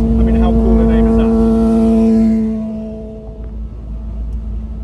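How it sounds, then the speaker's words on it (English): Loud, rumbling engine drone of a noisy motorbike passing close on a coastal highway, strong and steady at first, then fading away over a couple of seconds into lower background road noise. "Noisy motorbike."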